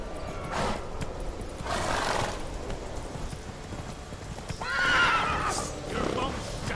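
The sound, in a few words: horse Roach neighing in video game The Witcher 3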